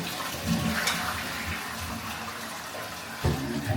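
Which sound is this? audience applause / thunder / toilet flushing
toilet flushing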